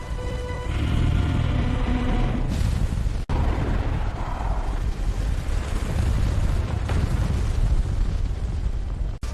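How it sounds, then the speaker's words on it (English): An exploding mountain in a Pokémon fan film, a loud, sustained roaring explosion with deep rumbling and crackling bursts, close and continuous with no talk. "We flew out of the exploding mountain just in time."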